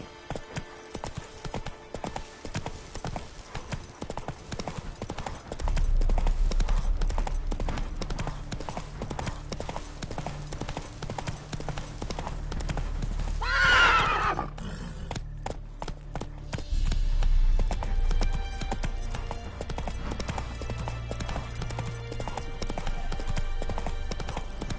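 Roach the horse galloping in The Witcher 3, a rapid continuous clip-clop of hooves with a sharp neigh partway through, under game music and ambience.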